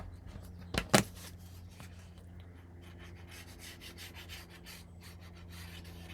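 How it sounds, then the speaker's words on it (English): Scored paper for a mini album is folded and burnished, a soft continuous rubbing and sliding close by, with two sharp crinkling snaps near the start. "Let me take the other pocket and fold and burnish on our score lines."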